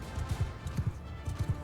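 Horse hooves clip-clopping in quick paired beats during a cavalry charge in Mount & Blade II Bannerlord, fairly faint and steady, with no speech.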